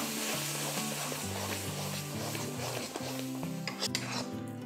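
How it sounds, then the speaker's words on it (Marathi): Cucumber dhondas batter made with semolina being stirred in a pan over low heat: a steady metallic scraping and clinking of a spoon against the pan, continuous and close, with faint background noise. "आता या सगळा ह्याच्यात बरा अगदी मिसळून घ्यायचा।"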